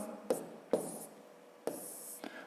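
A pen or pencil writes numbers on paper while a sum is worked out, giving a few short scratchy strokes separated by pauses, close and quiet.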